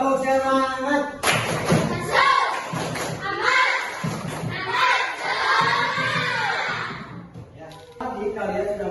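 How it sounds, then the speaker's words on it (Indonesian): Fifth-grade primary school children in a classroom perform a rhythmic spirit clap, with bursts of claps and thumps mixed with loud group shouting and chanting voices. "Yuk, tepuk semangat."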